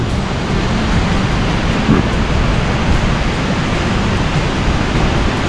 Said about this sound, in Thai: น้ำตกวชิรทาน